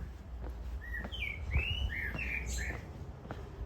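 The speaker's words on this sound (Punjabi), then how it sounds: "ਚਿੜੀਆਂ ਬੋਲਦੀਆਂ ਕਿੰਨੀਆਂ ਸੋਹਣੀਆਂ ਲੱਗਦੀਆਂ" Sparrows chirp in a quick series of bright, short calls nearby, irregular and lively over a low background hum.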